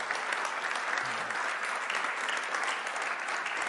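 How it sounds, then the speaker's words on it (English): An audience at a talk gives a steady, even round of applause, many hands clapping continuously at moderate volume with no voices standing out. "a big round of applause for Bob"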